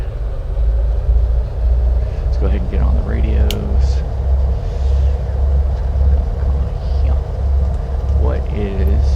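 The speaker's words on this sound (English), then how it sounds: "We have a good right engine start." Twin piston engines of a Carenado PA-44 Seminole in Microsoft Flight Simulator 2020 run at idle with a loud, steady low throbbing drone, while someone talks over it.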